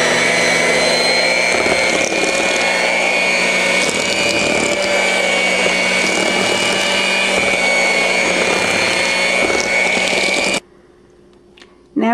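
An electric mixer whirs steadily and loudly while blending eggs, vanilla and a sugar mixture for chocolate brownies, a constant motor drone with a bright tonal whine that cuts out abruptly near the end.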